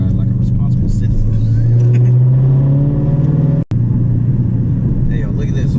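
A sports car engine drones steadily while driving, its low tone rising gradually in pitch before dipping for an instant and carrying on. It sounds loud and close inside the cabin, with voices talking over it.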